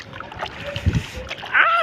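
Feet dip into a basin of hot water on a rooftop, making a couple of short, close splashes, followed by a brief voice-like sound at the end.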